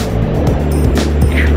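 Traffic on the Manhattan Bridge in New York City, heard from a bicycle, gives a loud continuous rumble of engines with passing vehicles whooshing by up close.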